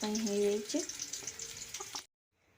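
Onions fry in a pan with a steady, close sizzle, a voice briefly sounding over the start before everything cuts off abruptly after about two seconds.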